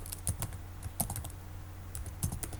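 A password typed on a computer keyboard, clusters of quick close clicks with a pause in the middle, no talking.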